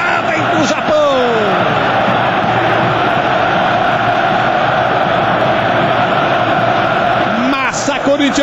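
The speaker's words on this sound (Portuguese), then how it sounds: "O grito é só da torcida corintiana" Corinthians supporters fill Yokohama stadium with a continuous, loud roar of chanting and shouting, a dense crowd sound that holds for several seconds.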